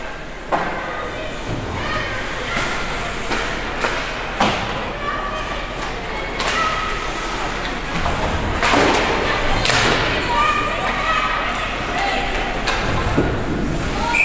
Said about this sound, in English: There's a shot that gets blocked by Erickson.